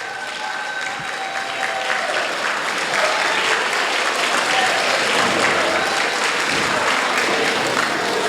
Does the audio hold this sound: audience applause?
yes